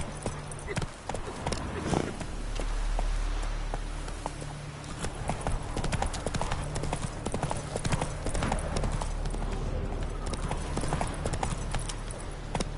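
Roach the horse gallops in The Witcher 3 video game, producing a rapid continuous drumming of hooves over a low rumbling ambience, steady and close throughout.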